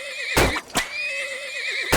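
A horse whinnies loudly with a wavering, drawn-out neigh in a farming video game, broken by two sharp percussive thuds like hoofbeats, with no voices present.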